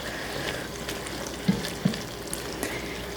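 Minced garlic hissing and sizzling in a hot frying pan for a homemade cream of mushroom soup, a steady close crackle with a couple of small taps and pops.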